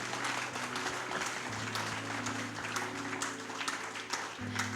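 Crowd applause keeps up steadily over low, sustained keyboard chords that shift once near the end.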